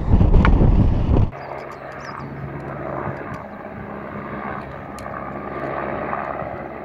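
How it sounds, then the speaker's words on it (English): Helicopter rotor drone overhead in the Brecon Beacons near a fire, a steady low rumble that lingers at moderate distance after a louder burst at the start, with wind noise. "with the helicopter still flying to and fro above us"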